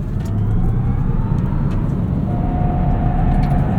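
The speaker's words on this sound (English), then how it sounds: "A lot of tire squeal." Tire squeal from a 2024 Tesla Cybertruck on all-terrain tires while cornering hard, a thin whine sitting over loud, steady road and cabin rumble.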